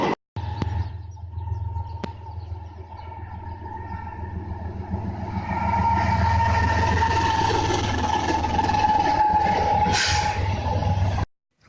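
A southbound highball freight train sounds a long, sustained air horn over steady rumbling of the passing train, the horn growing louder and dominant in the second half before cutting off.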